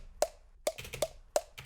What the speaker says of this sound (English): So that's the sound of me hitting myself in the cheeks with the cucumber.